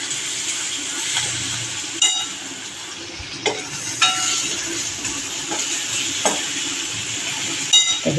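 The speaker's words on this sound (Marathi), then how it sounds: "आता आपला बऱ्यापैकी कांदा परतून झालाय त्याच्यावर आपण भाजी टाकणार आहोत" Onion and red amaranth greens stir-fried in a pan for a home-cooked Marathi dish, a steady sizzle broken by sharp scraping clicks of the spatula against the pan.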